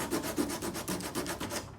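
Sandpaper rubs back and forth across a model's surface to rough it up, making about a dozen quick, evenly spaced rasping strokes at close range.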